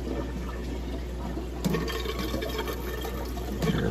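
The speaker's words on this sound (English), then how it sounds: "You can already hear water going." Water flowing through a clownfish rearing rack system just after a valve is opened, a steady rushing trickle with a low hum beneath and a few brief splashy bursts.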